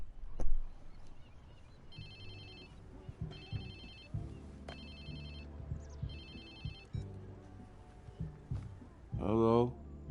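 A phone rings in the Watch Dogs 2 video game, a repeated electronic trill in short bursts over quiet ambience, followed by a brief voice near the end.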